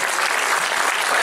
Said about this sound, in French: Et on vous applaudit bien évidemment